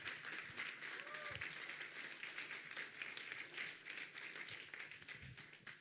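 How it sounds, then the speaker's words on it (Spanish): A church congregation applauds, a steady wash of many hands clapping that holds at a moderate level throughout without pause. "Denle un aplauso al Señor."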